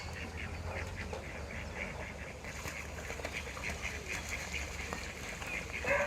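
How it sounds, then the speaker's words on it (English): Ducks playfighting outdoors among seagulls, giving repeated quacks over steady outdoor background noise, moderately distant and continuous throughout. "Oh, a couple of ducks"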